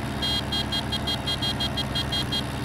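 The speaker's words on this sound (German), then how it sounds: "Geht die Hupe noch hier?" Tractor horn in Farming Simulator 17 sounds a rapid run of about a dozen short, evenly spaced toots over a steady engine rumble, loud and close.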